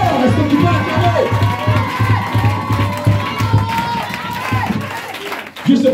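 A church congregation cheers and shouts in acclaim, a loud crowd roar with whoops, clapping and a steady drumbeat underneath, sustained for several seconds before briefly dipping.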